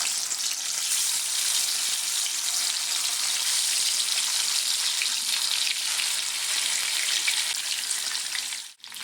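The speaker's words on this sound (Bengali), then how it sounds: "এক এক করে সমস্ত মাছগুলো আমি গরম তেলের মধ্যে দিয়ে দেব" Small chela fish frying in hot oil, a loud, dense, continuous hiss of sizzling that holds steady and close for the whole stretch before briefly cutting out at the very end.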